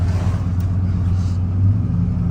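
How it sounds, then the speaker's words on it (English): A car cruising on a road at moderate speed gives a loud, steady low engine and road rumble close by, with a faint airy whoosh of turbo noise riding over the drone. "Oh, I forgot how much I love turbo noises."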